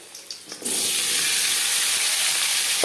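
Parboiled jackfruit drops into hot refined oil and erupts into a loud, steady sizzle after a few quiet kitchen clicks, the hiss holding strong and unbroken to the end.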